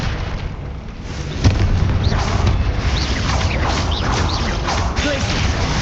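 A Confringo blast spell explodes in the Hogwarts Legacy video game, a sharp boom at about 1.5 seconds over a dense, continuous rumble of battle noise and effects, with speech-like sounds mixed in.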